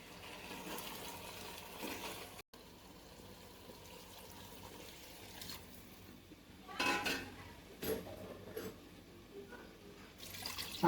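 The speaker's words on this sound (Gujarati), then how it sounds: "હવે ચલાવી અને જરૂર પૂરતું પાણી આપણે હવે એડ કરી દઈશું." Gourd (tindli) pulao being stirred in a pot as water is poured in, with soft scraping and clinks of a spoon against the pan and a few louder splashing bursts toward the end, with no voices.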